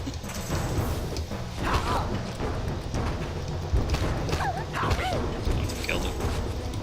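Dog yips and barks in Legacy of Kain: Soul Reaver 2, a few short calls scattered among thuds and mechanical game noise, fairly loud and dense throughout.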